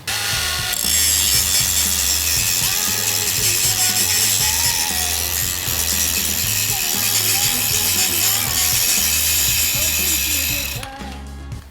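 A GRAND cordless angle grinder grinds metal on its second speed setting with a loud, continuous whine and buzz for about eleven seconds, then cuts off abruptly.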